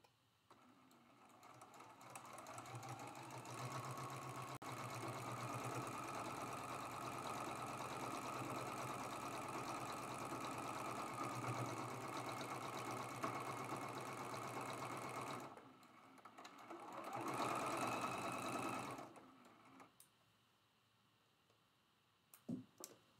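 A sewing machine runs steadily for about fifteen seconds, stitching the final seam of a prairie flower quilt block, then stops, gives a brief second burst and goes quiet with a few small clicks.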